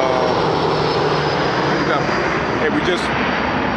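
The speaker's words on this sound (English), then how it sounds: "You might have just seen a view of helicopters flying over this park over here." Military helicopters pass overhead, making a loud, continuous engine and rotor roar that fills the whole stretch and stays steady throughout.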